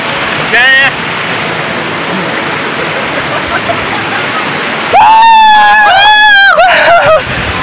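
Stream water rushes loudly and continuously close by as people wade in, with raised voices calling out briefly near the start and again toward the end.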